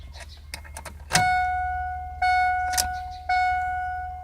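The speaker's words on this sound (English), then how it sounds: "I'm inserting the key into the ignition." Key sliding into the ignition of a 2001 Ford Focus ZX3 hatchback, a few short metallic clicks followed by three dash chimes that ring on and decay, close up.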